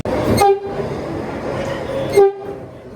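A metro train rumbles loudly at an underground station, with two short tonal horn or signal blasts near the start and end over the constant roar of the carriages.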